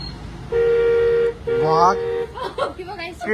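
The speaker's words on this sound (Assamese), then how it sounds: "একদম ক্ৰেটাৰ হৰ্ণ লাগি আছে স্কুটিত" Two short, bright horn toots from a scooter, close and loud, followed by a quick burst of chuckling voices.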